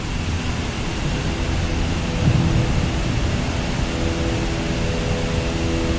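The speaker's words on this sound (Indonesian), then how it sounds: "itu percikan-percikan air dari curug sih pemirsa" Fine water spray drifts from the Cimahi waterfall, a steady broadband hiss like light drizzle that holds evenly throughout, with no voices.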